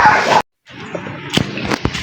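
A neighbor's dog barks and yips in short bursts while being fed, with a loud burst up front, a brief gap, then a few sharper yelps over background noise.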